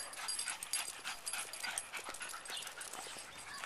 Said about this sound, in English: These dogs are weird.